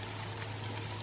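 Soy sauce pouring into a pan of chopped capsicum for homemade macaroni, a steady close liquid stream over a constant low hum, with no talking.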